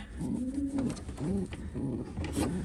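Pigeons in a breeding loft coo repeatedly at close range, low rolling calls coming in a steady rhythm of several phrases.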